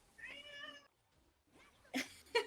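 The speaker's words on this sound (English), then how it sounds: "We also can hear some cat in the background." A cat meows several times in the background, a drawn-out cry near the start followed by two sharper, louder meows toward the end, with quiet room noise between them.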